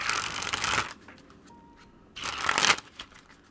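A deck of playing cards is sprung from one hand to the other in two loud, fluttering riffles, with a brief quieter gap between them and no talking.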